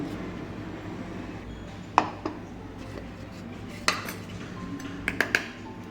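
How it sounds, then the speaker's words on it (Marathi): Paneer mashed with sugar in a pot gives soft, scattered clinks and taps of a utensil against metal, a few sharper knocks standing out over a quiet background with no talking. "आता पनीर हे बारीक करून घेऊया"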